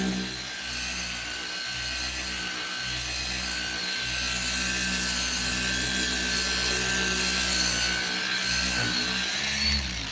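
A cordless car polisher runs with its pad in a steady, fairly loud, continuous whir with a high whine, holding an even drone with small shifts in pitch throughout.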